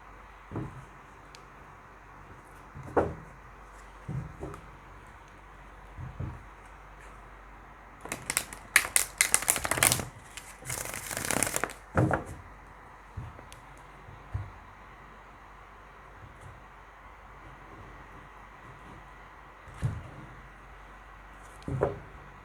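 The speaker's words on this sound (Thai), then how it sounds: "เพื่อที่ทำการเลือกไพ่ทาโร่ออกมาจำนวน10ใบ ให้กับคุณนะครับ" Tarot cards are handled quietly for long stretches with soft scattered taps. Midway comes a brief flurry of riffling and flicking as the deck is shuffled, then it settles back to sparse light card clicks.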